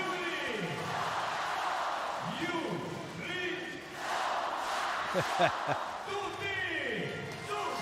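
A home crowd in Bari roars for Italy in the tiebreak set of a EuroVolley 2023 quarterfinal against the Netherlands, cheering in swelling waves with loud bursts while a commentator talks over it.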